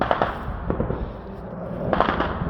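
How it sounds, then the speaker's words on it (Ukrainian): Sharp bursts of gunfire crack nearby in a wooded combat area in Ukraine, a few scattered shots followed by a quick cluster of reports over a rumbling background. "бо він в нашу сторону стріляє."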